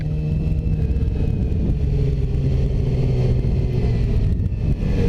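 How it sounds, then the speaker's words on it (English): Morning commuter traffic heard from a motorcycle stuck among the cars, a loud, steady engine rumble and hum from idling and creeping vehicles close by. "You see me sitting in some traffic here."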